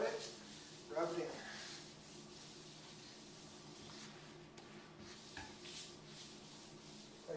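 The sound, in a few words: rubbing sealer into a granite countertop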